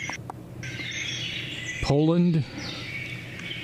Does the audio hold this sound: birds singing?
yes